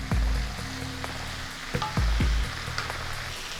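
Jackfruit curry sautéed slowly in a pan with yogurt, a soft steady sizzle broken by a few loud scraping stirs of the spoon against the pan, close and clear with no talking.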